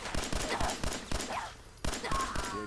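Gunfire from the video game Fallout 4: a rapid string of sharp, punchy shots in bursts, with brief pauses between volleys and a voice talking faintly underneath.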